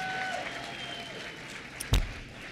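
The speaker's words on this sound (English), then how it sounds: "Let's give her a round of applause." Thin, distant applause from a union organizing meeting crowd patters faintly, broken near the end by a sharp thump or knock.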